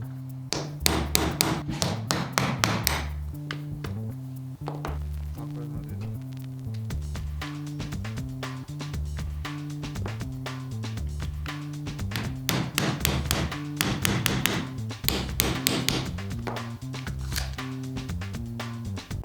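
Sharp metallic hammer taps on a drift punch, disassembling a BRG9 Elite 2 pistol, come in quick bursts of several strikes, repeating throughout over a steady rhythmic musical backdrop.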